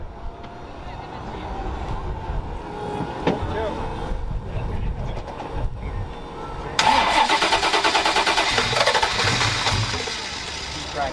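A fully restored 1989 Ford Mustang GT V8 cranks over on a cold start, then roars to life with a loud, rough, rising idle, and a voice is heard briefly.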